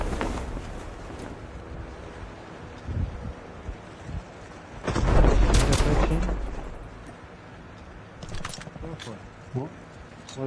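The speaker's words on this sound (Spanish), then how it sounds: "acá allá arriba se escuchan tiros" Gunfire from the mobile shooter game Call of Duty: Mobile, with a loud burst of shots around the middle and fainter scattered pops elsewhere, heard under people talking.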